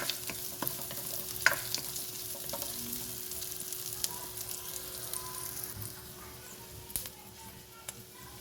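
Onions fry in a pan for keema karela, a continuous close sizzle with light stirring scrapes and a few sharper ticks, no talking.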